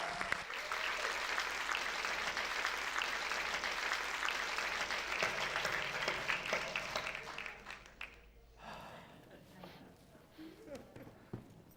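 An audience applauds a first group of speakers at a public safety event, dense clapping that tapers off into scattered claps, with voices and a few bumps audible as it dies down.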